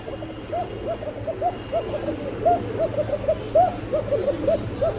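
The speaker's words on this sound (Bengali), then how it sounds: "অরিজিনাল কোকা ভাই, মাদি নরমাদি দুটোটাই ডাকে" A pair of original Koka pigeons, one male and one female, coo in a steady series of short hooting calls over a low constant background hum.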